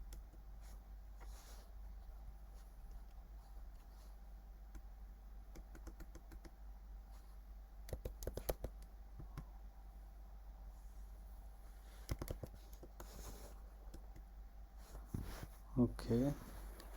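A password being typed on a computer keyboard, with a few scattered clusters of quiet key taps and a brief burst of clicks near the end, faint against a low steady hum.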